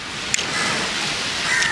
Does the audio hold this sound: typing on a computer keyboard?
no